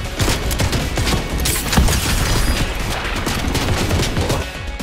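Dense, continuous gunfire from a Fortnite match, many rapid shots overlapping with crashes and booms at steady loudness, with no gaps and no voices.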